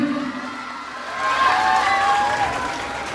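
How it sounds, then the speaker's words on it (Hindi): Students at a school Independence Day event applaud and cheer, a crowd's clapping and shouts swelling midway and holding at moderate distance. "जोरदार ताली होनी चाहिए भाई"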